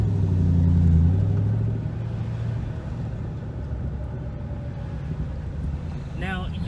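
A loud manual Ford Mustang rumbles in traffic, its engine heavy and low at first, then settling into a steadier drone under wind noise from inside the car, with a brief whine near the end.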